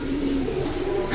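Silver pigeons coo in a low, steady murmur close by, a continuous soft throaty sound with a brief higher chirp at the end.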